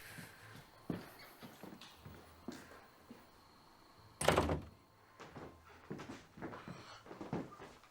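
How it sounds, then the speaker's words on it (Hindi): A door being closed indoors, with a heavy thunk in the middle of scattered quieter knocks and shuffling footsteps, all faint and close, with no talk. "बस दरवाजा बंद कर देना।"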